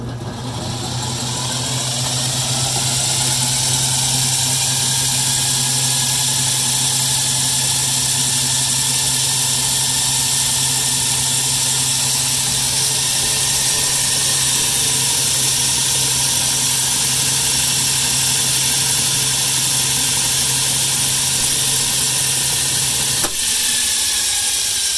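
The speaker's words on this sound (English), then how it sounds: "the starter will not lift off of the commutator and it continues to run on the starter windings" A church organ blower's electric motor stuck on its starter windings because of worn brushes, giving a loud, steady droning hum with a buzzing whine that runs unchanged for over twenty seconds, then cuts off abruptly near the end.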